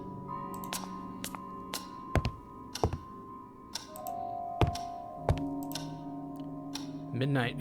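Inside the Scratches video game, a clock ticks in a regular rhythm alongside sharp thunks and clicks, with a tonal hum underneath and a voice briefly heard near the end.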